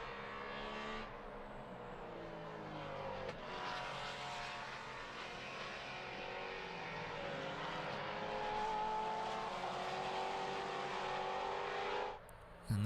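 Maserati Trofeo race cars at the Red Bull Ring lapping the circuit, engines droning and shifting pitch as they pass, heard fairly steadily with a brief dip near the end.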